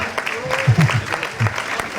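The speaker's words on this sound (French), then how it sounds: "On va les applaudir." Scattered audience clapping at a fashion show runway, moderately loud and uneven, with a low voice speaking over it in short bursts.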